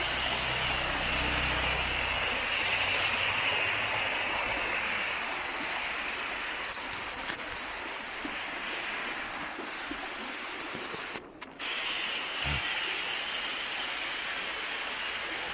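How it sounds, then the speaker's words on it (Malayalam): Water trickling and running steadily down a rock face beside a waterfall on the road to Munnar, a continuous broadband wash heard close by and alone, with a brief dropout near the end. "അതിൻ്റെ മുകളിൽ നിന്നാണ് ഈ വെള്ളം ഇങ്ങനെ ഒലിച്ചൊലിച്ച് വരുന്നത്"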